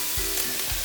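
Broccoli and other vegetables are stirred in a pot of vegetable and tofu soup as they cook, giving a steady close sizzling hiss with soft scraping swirls from the stirring.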